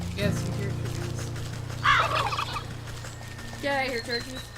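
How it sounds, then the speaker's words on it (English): Turkeys gobble in the farmyard of the game Wytchwood, two rattling gobbles a couple of seconds apart over a low ambient music drone. "Yeah, I hear turkeys."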